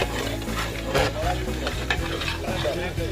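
Mutton being sautéed and stirred in a pot at an outdoor picnic: a continuous sizzle with scraping stirring strokes and occasional clinks of utensil on metal, close up, with faint voices in the background.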